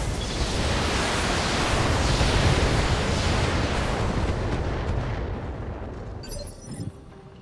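A loud barrage of mech weapons fires in a Battletech battle: a dense, roaring volley of blasts and explosions that rumbles on for several seconds, fades, then ends in a final crack.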